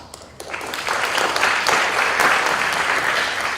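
An audience at a Stratford Public Schools board of education meeting breaks into steady applause that swells after a brief quiet start and stays dense and even to the end.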